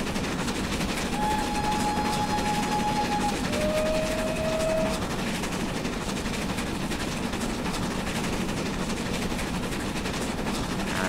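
Steam locomotive hauling a heavy express train on a 1950s Riviera Line route in Train Simulator, heard as a steady continuous rumble and rolling clatter with two drawn-out whistle tones early on, no talk.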